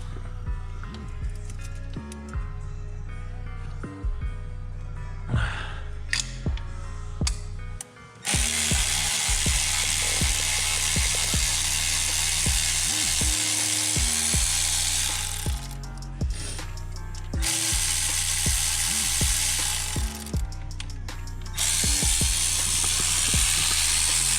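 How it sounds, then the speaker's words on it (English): Valve seals on a Pontiac G8 GT 6.0 LS engine are pulled with a valve seal puller, producing metallic clicks and ratcheting clatter, then a long loud hissing, air-like rush in several sustained stretches. "I'm just using a valve seal puller"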